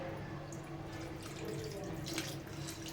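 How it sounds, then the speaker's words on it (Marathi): Water poured into a pan of spicy chard (chakvat) gargata bhaji curry in a home kitchen: a steady, close splashing stream runs for a few seconds with no pause. "थोडंसं पाणी घालूया"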